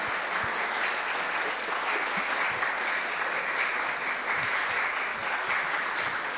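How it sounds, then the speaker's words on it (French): Audience applause at a gathering in a foyer de charité in Spa, dense, even clapping that holds steady and strong for the whole stretch with no voices over it. "On peut applaudir."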